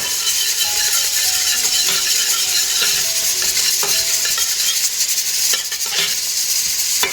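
Onion and garlic sizzle in a pan with cooked rice, a steady bright hiss broken by a few scraping stirs and light utensil clinks.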